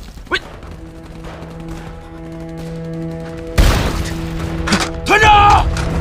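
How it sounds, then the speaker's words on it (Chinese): Battle scene from a war film as enemy artillery pounds a position: a brief thump early, then a loud burst of blasts and gunfire erupts midway and rumbles on to the end, over a steady tonal hum with voices shouting. "我方遭到敌人炮火猛烈攻击，请求支援"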